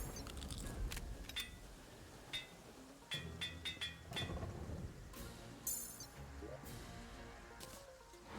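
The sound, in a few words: thunderstorm with rain in a video game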